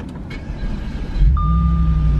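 An Audi S5 with a V8 and keyless push-button start cranks briefly and then catches, settling into a loud, steady idle close by, with a high chime tone sounding alongside.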